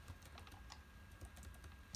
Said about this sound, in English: Sorry about all the mouse clicks and stuff.